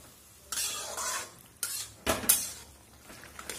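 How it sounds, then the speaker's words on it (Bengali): Pumpkin greens and stems stir-fry in a pan for a vegetarian curry, with a spatula scraping and clinking in several close strokes over a soft sizzle. "আমি এভাবে একটুখানি শাকটাকে আর ডাটাগুলোকে কষিয়ে নেব"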